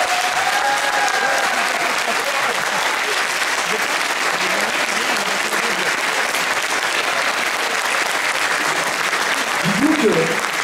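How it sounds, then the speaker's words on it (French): An audience at a game show conference in Toulouse applauds a game development team, a loud sustained wash of clapping with crowd noise and some voices mixed in, rising slightly near the end. "Et il faudrait vraiment les applaudir"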